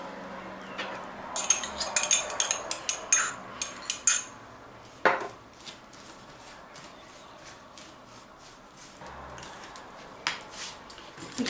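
Crumbled biscuits stirred with melted butter in a bowl, with irregular scraping and clinking of a utensil against the dish, close and fairly quiet, without talking.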